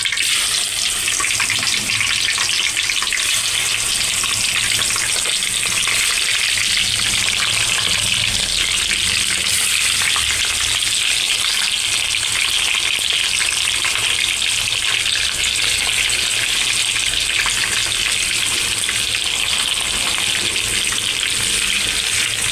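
Masala-coated kanaganthala fish pieces deep frying in plenty of oil for a crispy fish fry, a loud, dense, unbroken sizzle and bubbling that holds steady throughout, with no talking.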